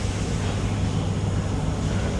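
Steady wind rushes past over a low rumble of motion, a constant breezy roar with no breaks.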